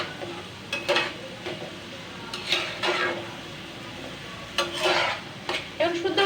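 Curry being stirred and sautéed in a pan, with repeated scraping and clanking strokes of a utensil against the metal in irregular bursts over a low, steady sizzle, close and clear, no talking.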